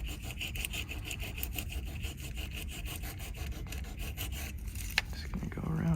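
Sandpaper rubs back and forth across a whole board in quick, even rasping strokes at close range, steady and fairly loud, with a brief click near the end.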